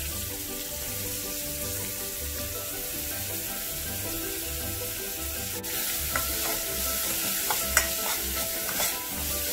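Carrots with curry leaves and chillies frying in a pan, a continuous close sizzle with a low bubbling hum, punctuated by several light scrapes and taps of the spoon near the end.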